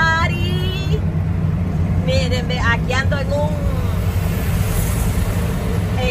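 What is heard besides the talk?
Ford 350 truck driving, heard from inside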